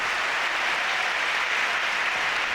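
Sustained, even applause from a tennis crowd in Madrid at the 2006 year-end championships, a dense steady roar of many hands with no voices over it.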